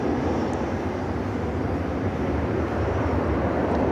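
A Japan Airlines Boeing 777 arriving from Tokyo Haneda at an airport, a broad, steady jet roar that stays loud throughout with no talk.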